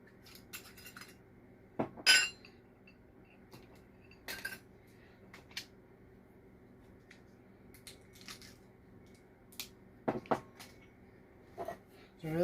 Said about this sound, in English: We want to go ahead and put those separate in a little bowl and